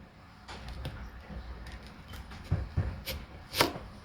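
A knife cuts straight down through a small onion on a cutting board while preparing a bloomin onion, a few quiet separate chopping taps and thumps, soft and close.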